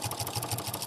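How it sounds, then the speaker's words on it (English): Sewing machine stitching straight over a small fabric loop on a petite washcloth, a close, steady mechanical whir with a quick regular pulsing rhythm through the short run. "we're just going to sew right over the little loop"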